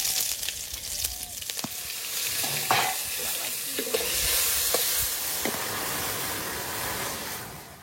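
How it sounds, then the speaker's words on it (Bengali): Dry red chilies fry in hot oil in a wok, a loud, steady sizzle and hiss with occasional close stirring scrapes and clicks, with no talking. "তেলের মধ্যে শুকনো লঙ্কা দিয়ে দেব"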